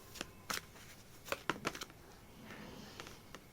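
Tarot cards being shuffled during a card reading, heard as several brisk flurries of soft papery riffles and clicks, fairly faint and close, with quieter gaps between them.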